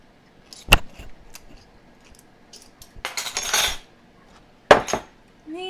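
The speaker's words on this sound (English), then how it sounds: "I'm just going to grab this little 1/4 teaspoon" A small quarter teaspoon clinks against dishes and cutlery in a kitchen: a sharp metallic tap, a longer jangling rattle midway, then another bright clink, close and otherwise quiet.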